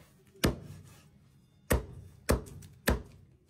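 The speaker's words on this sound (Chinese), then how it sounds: "把烤鸭剁了四分五裂" A cleaver chops through a whole roast duck in four sharp, loud thuds, one alone and then three in quick succession, each with a brief ring-off in a quiet kitchen.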